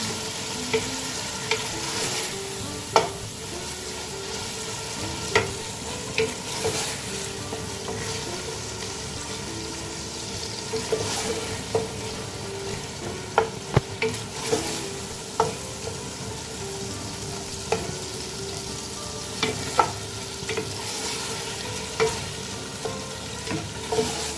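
Zucchini cubes sauté and sizzle in a pan while being stirred, a steady frying hiss broken by regular scraping and clinking strokes from the utensil.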